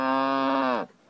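A person imitates a cow on a Romanian talent show, holding a single loud, drawn-out nasal moo that drops in pitch and breaks off abruptly.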